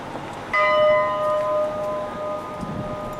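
A bell rings out once, loud and near, its clear metallic tone sustaining and slowly fading for over a second against quiet outdoor background.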